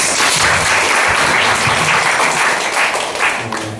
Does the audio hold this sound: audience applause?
yes